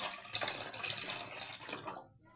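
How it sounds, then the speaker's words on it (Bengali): Water runs from a tap into a bowl to wash small new potatoes, a steady close splashing stream that stops abruptly near the end. "এরপর একটি পাত্রে আমি জল নিয়ে নেব একটি আলুগুলোকে ধোয়ার জন্য।"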